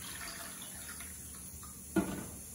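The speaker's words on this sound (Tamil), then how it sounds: "இதுல வந்து அப்படியே நம்ம தண்ணியை ஊத்திடலாம்." Water poured into a bowl of dissolved tamarind while making pongal, a soft steady trickle that swells into a brief, louder splash near the end.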